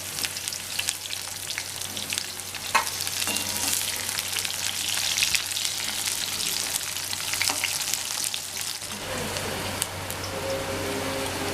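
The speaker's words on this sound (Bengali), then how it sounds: "বেগুনটা ভেজে নেব।" Thin strips of eggplant fry in oil in a pan, giving a dense, continuous close sizzle like rain on a surface, with an occasional faint clink or stir and a slight change in texture near the end.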